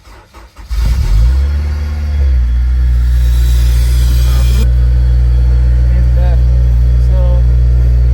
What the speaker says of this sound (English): This is a cold start, and then yeah, I'll let you guys hear it.